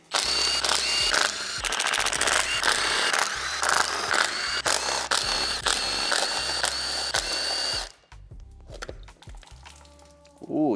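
Ratcheting wrench clicks and metallic tool sounds while brackets come off a Toyota GR Supra B58 engine, dense bursts of rapid ratchet clatter for about eight seconds, then sparse quieter clinks and handling noises.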